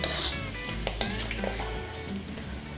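Garlic sizzles steadily in a hot pan, a continuous dense crackle with occasional brief clinks, close and fairly loud, no talking.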